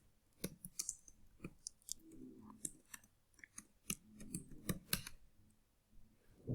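Alt+Enter keystrokes tapped on a computer keyboard, heard as quiet, irregular clicks in small clusters spread across a few seconds, close and faint with no talking.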